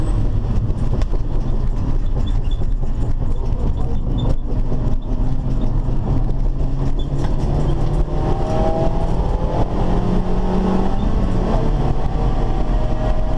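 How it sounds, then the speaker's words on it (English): A race car engine drones loudly inside the cabin and climbs steadily in pitch as it revs hard under acceleration, with road and wind rumble running continuously throughout. "You rev all the way to the rev limiter and then just brake and go in again."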